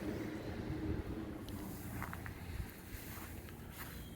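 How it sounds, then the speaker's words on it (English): Steady wind rumbles and buffets the microphone outdoors, a constant low roar with a few faint higher sounds drifting through. "It's a little windy out, so I had to move to a different spot, but it's still windy"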